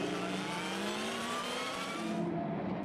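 A Toyota endurance race car at a World Endurance Championship race, its engine holding a steady loud drone with a shifting pitch as it charges past close by.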